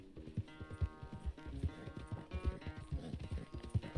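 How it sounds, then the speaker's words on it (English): Galloping horse in the video game Red Dead Redemption 2, its hooves clip-clopping in a fast, steady rhythm of close, distinct beats with no other sounds over them. "That's my horse."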